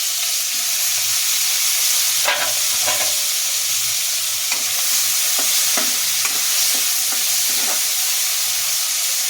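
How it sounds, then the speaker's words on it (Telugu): Chopped onion fries in two spoons of oil in a kadai, a loud continuous sizzle and hiss with occasional scraping stirs of a spoon against the pan, and no talking. "రెండు స్పూన్ల ఆయిల్ వేసుకొని ఒక పెద్ద ఉల్లిపాయ కట్ చేశాను ఇప్పుడు ఇందులో వేసేసుకుందాం"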